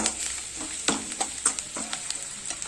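Chili powder frying in oil for capsicum gravy, a steady bright sizzle with repeated scraping strokes of a spoon stirring in the pan, close and fairly loud.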